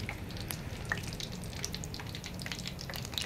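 Mustard-style seasoning pops and sizzles in hot oil in a pan while amla pickle is made, a steady frying hiss broken by sharp, scattered crackles and spits.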